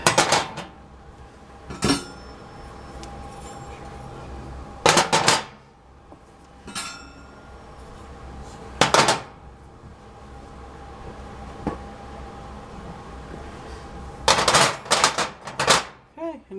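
Clattering knocks of metal stove burner parts being handled and washed, a few sharp bursts separated by quieter stretches, close by with no talk.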